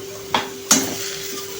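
Onions dry roasting in a pan without oil give two sharp metallic clinks of a utensil against the pan over a faint steady hum, quiet between the hits.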